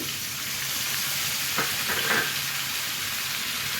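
Vegetables, including flat beans and carrots, hiss and sizzle in a hot pan, a steady, close frying noise with a brief clatter partway through as more pieces go in.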